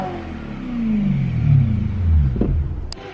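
A car engine revs with a brief extra burst of throttle, a loud, close rumble rising and falling over a few seconds with no talking.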